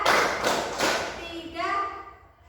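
Schoolchildren in a classroom clap in a counted rhythm, giving a few heavy, spaced claps, followed by young voices chanting together.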